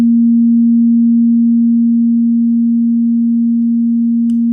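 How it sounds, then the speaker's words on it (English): A pure, steady sine tone, with left and right channels slightly out of sync, hums at a constant low-mid pitch, loud and unchanging, with a faint click near the end. "make these left and right sine waves slightly out of sync with each other"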